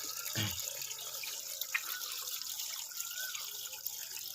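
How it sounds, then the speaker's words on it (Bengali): Katla fish pieces are rinsed under a running kitchen tap, a steady close splash of water with a brief knock near the start and small clinks throughout. "এগুলো ধুয়ে গুছিয়ে রাখি সারা সপ্তাহের"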